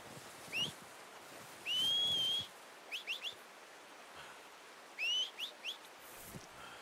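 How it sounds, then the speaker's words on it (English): A player whistles for a horse in Red Dead Redemption 2, with several sharp rising whistles and short chirping bursts spaced apart over a quiet outdoor game ambience. "Whistle for the horse."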